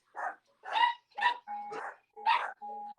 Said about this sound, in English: Now my dogs are barking.